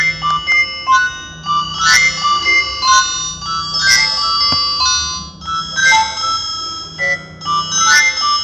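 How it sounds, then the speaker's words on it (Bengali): Nokia 106 (2017) mobile phone ringtone playing alone, a bright, loud polyphonic melody of repeated short tonal phrases with a steady rhythm across the whole stretch. "Nokia 106 ringtone."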